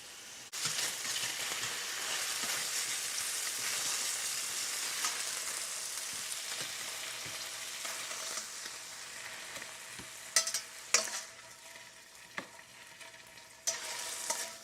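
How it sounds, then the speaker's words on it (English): Pork chops brown in a pan, a steady bright sizzle that holds for the whole stretch, broken near the end by a few sharp clinks and scrapes of a utensil. "Right now we're just browning the pork chop because they will end up simmering for at least an hour"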